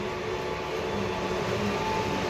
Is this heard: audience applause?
no